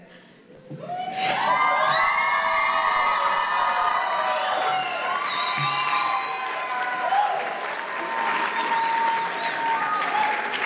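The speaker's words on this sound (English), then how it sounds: "Would everyone please rise as we cheer on our first graduating class at YWA?" A large crowd at a high school graduation ceremony for the first graduating class of a girls' STEAM academy erupts into loud, sustained cheering, applause and high-pitched whoops and shouts, continuing steadily throughout.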